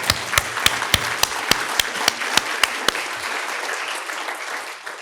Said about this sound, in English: Let's give one more round of applause to everyone here